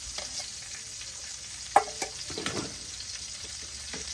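Peppers and carrots stir-fry in a hot pan for Mongolian beef, giving a steady low sizzle broken by a few scraping stirs and clicks of a utensil, close by.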